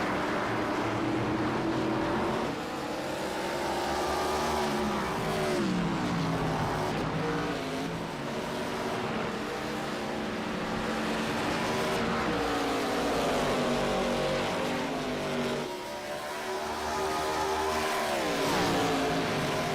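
ARCA race cars roar around Watkins Glen in a racing game, a loud, continuous engine drone rising and falling through gear shifts and braking, with several cars blending together and no voices.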